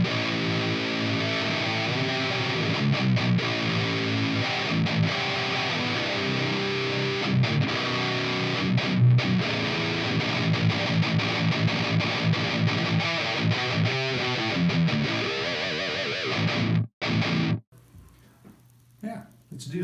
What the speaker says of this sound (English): Amp number 4, a diesel VH4, I believe, sounds like this.